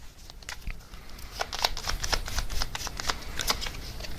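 A deck of tarot cards is shuffled close-up, a steady run of riffling and flicking card sounds with short snaps, and no voice over it.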